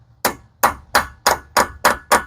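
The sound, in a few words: hammer striking a center punch on a Silverado CV axle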